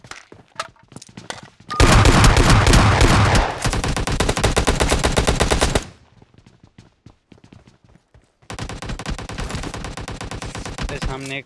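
Bursts of PUBG Mobile gunfire: a dense, loud volley of rapid automatic shots for several seconds, then a steady stream of fire, a short lull of scattered faint pops, and another sustained rapid burst near the end.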